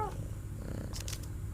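A cat purrs softly in the video game I Am Cat, a low steady rumble with a few brief higher chirpy sounds near the end, quiet and without talk.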